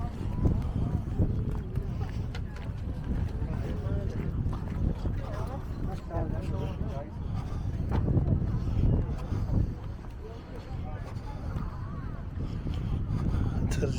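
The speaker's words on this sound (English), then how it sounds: "It's a little bit on the windy side" Steady wind at a seaside resort buffets the microphone in a continuous low rumble, with people talking and general bustle underneath.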